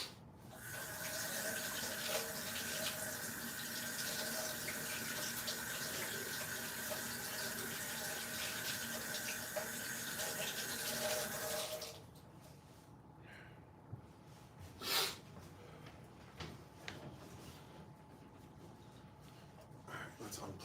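Tap water runs over an immersion blender in a kitchen sink as a steady, close rushing stream for about twelve seconds, then shuts off, leaving a quieter room with a few light clunks and handling noises.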